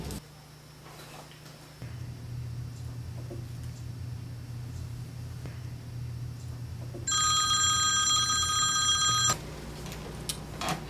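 A telephone rings once with a bright electronic trill lasting about two seconds, heard over a steady low indoor hum with no talking.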